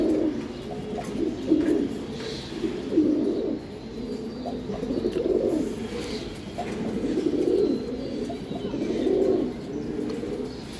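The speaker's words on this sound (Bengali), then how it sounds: "দেখেন অনেক স্পেশাল কবুতর, টানা গলা কবুতর।" Giribaz high-flying racing pigeons coo in repeated low, throaty phrases close by, a soft rolling rhythm running continuously with faint chirps in the background.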